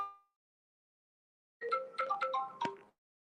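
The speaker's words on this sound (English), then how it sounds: "I have a call, please." A phone's ringtone plays for an incoming call as a short, bright melodic jingle of chiming notes, heard once after a near-silent pause. It is faint and stands alone, with no voices over it.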